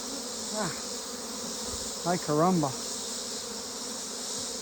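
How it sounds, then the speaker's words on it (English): Bees buzz steadily in an opened beehive box during winter space reduction, a constant close hum, while someone speaks briefly over it. "Got a lot of bees in it."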